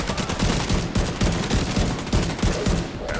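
A light machine gun in The Division 2 fires rapid, sustained bursts with sharp rhythmic reports, loud and close, continuing almost without pause.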